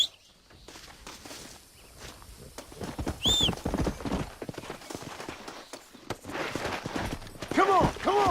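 Horse hooves clip-clop steadily in the Xbox 360 western game Red Dead Redemption as a rider mounts up and heads out, with shouted voices, birdsong and occasional whinny-like calls layered over the rhythmic hoofbeats.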